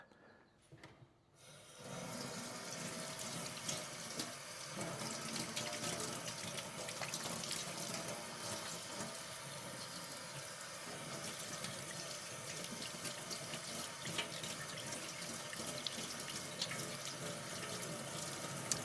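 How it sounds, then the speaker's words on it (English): A shower head is rinsed under a cold kitchen tap after descaling in vinegar, steady broadband running water splashing close and loud for most of the clip, with a brief quiet moment at the start. "and then rinse that under a cold tap."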